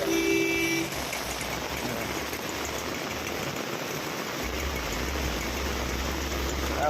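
Heavy downpour on a flooded crossroads in Patan, a steady dense hiss of rain with traffic engines rumbling low underneath and a brief horn-like tone at the start, continuous and loud throughout.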